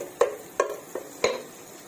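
Paneer frying in a pan is stirred, giving four spaced spatula knocks and scrapes against the pan over a faint background.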